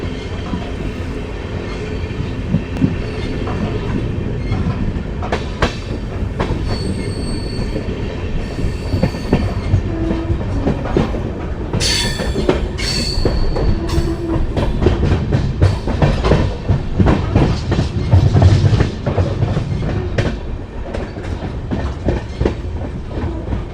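The Amritsar–Bikaner Superfast Express, train 14720, rolls steadily on its rails past wheat fields near a small station, with a loud continuous rumble, clattering wheels and bursts of squeal throughout, and no voices.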